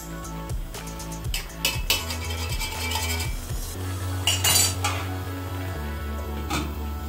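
A lid goes onto a metal cooking pot of palak spinach, with a scattered series of close metallic clanks, clinks and scrapes of cookware against a low kitchen hum.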